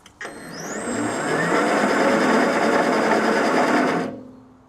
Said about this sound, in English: Better get the engine warmed up, hadn't I?